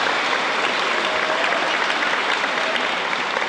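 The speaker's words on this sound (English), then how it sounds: "Give Jill a round of applause." Crowd at a Chicago community rally applauds Jill Stein, a dense, loud, steady wash of many hands clapping, sustained throughout without speech.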